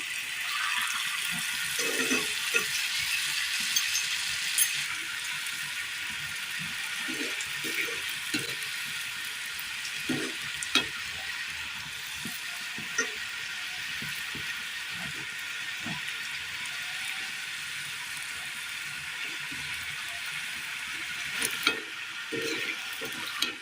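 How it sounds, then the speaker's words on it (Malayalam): Kerala snacks dropped one by one into hot oil, frying with a steady hiss and crackle and scattered small pops throughout. "എണ്ണയിലേക്ക് ഇത് ഓരോന്നായിട്ട് ഇട്ട് കൊടുക്കാം."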